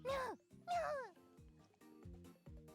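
A cat in a video game cries out in fear: two drawn-out, falling meows close together, followed by quieter, rhythmic pulsing sounds, all faint and with no voices.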